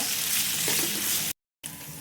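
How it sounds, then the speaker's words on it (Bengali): Chopped onions fry in a wok with a bright, dense sizzle that runs steadily, breaks off for a brief moment of silence, then resumes just as loudly, close up with no voices. "কড়াইতে হচ্ছে আমি এখন পরিমাণ মতো পেঁয়াজ কুচি, পেঁয়াজটাকে আমি একটু ভাজা ভাজা করে নেব"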